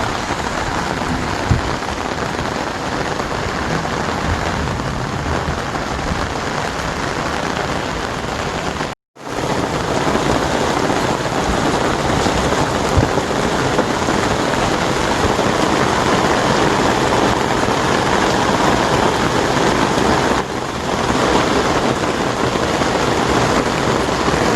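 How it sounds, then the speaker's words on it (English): Steady, dense rain falls continuously, a close, loud hiss of drops on surfaces with one brief cut partway through; no voices. "Kind of sounds like rain, doesn't it?"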